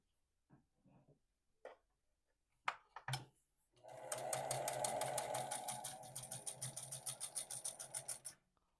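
Vintage sewing machine stitching fabric, a few scattered clicks and knocks first, then a steady close rapid mechanical chatter for about four seconds that slows into distinct repeated stitch beats before stopping.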